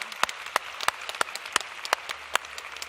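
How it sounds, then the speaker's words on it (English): Audience applause at a startup pitch event: quiet, scattered clapping with a handful of distinct sharp claps standing out over a soft, thin patter, fairly distant. "Please give Selery and Jason a huge round of applause."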